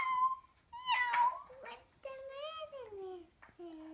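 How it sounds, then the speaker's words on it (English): A cat meows several times nearby, with drawn-out, wavering cries, while a voice is heard around them. "Cat"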